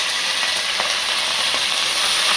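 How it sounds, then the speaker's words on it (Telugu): Urad dal and chana dal frying in hot oil, a steady close sizzle with faint crackles throughout and no voices. "ఉద్దిపాయలు, శనగపాయలు వేసి వేయించుకోవాలి ఆయిల్లో."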